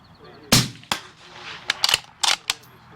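Sharp gunshot cracks from a Uintah Precision UPR-15 .223 rifle at a shooting range, roughly seven quick reports spread irregularly over a few seconds. Some shots are louder and nearer, others fainter, with no talk between them.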